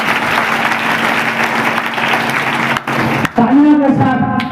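Congregation applause at a Hindi church service, a loud steady roar of many hands clapping for about three seconds that cuts off abruptly, followed by a voice speaking.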